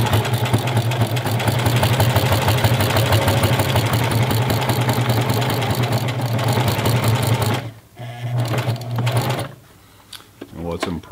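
A Singer heavy-duty sewing machine with a size 16 denim needle sews through four layers of medium-weight leather. A loud, steady motor drone and fast needle chatter run close for several seconds, then break into short, uneven bursts.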